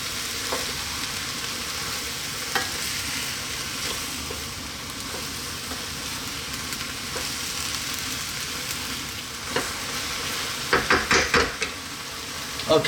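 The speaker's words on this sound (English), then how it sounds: "2 spoons, 3 or 4 minutes, stirring it in, mixing it round." Chicken chow mein with Canton noodles sizzles and crackles steadily in a hot pan as it is stir-fried for several seconds, with a few sharp clinks of a utensil near the end.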